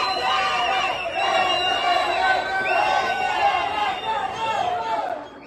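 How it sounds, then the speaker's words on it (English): A protest crowd outside in Medellin yells and chants "afuera" loudly and continuously, many voices shouting together close by with dense crowd babble throughout. "you're going to see the crowd outside yelling, close up, and saying afuera, afuera"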